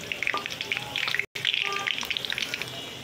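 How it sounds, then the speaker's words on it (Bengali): Chopped onion frying in oil in a pan for a flat bean stir-fry, a close, lively crackle with bright spitting pops throughout, broken by a very brief silent gap. "দিয়ে দিচ্ছি পেঁয়াজ কুচি।"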